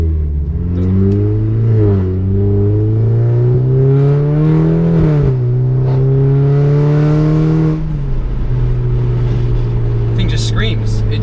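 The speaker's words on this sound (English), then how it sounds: "They have that classic, you know, 4-cylinder sound" A turbocharged four-cylinder Audi A4 with a K04 turbo and methanol injection pulls hard under load, its tone climbing steadily through gears with a brief shift dip, loud and close.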